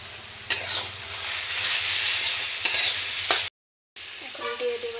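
Crushed garlic and chilli paste sizzles hard in a hot frying pan, a steady loud hiss broken by a few sharp stirring scrapes and a brief dropout near the end.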